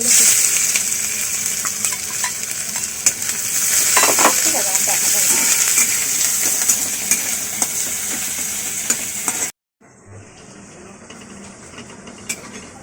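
A papad fries in a pan with a loud, continuous sizzle and scattered crackles. It breaks off abruptly and comes back quieter.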